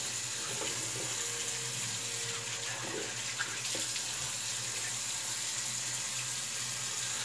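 Tap water runs steadily at a sink while a face is rinsed before a wet shave, a soft continuous splashing close by with a few brief thuds and no talking.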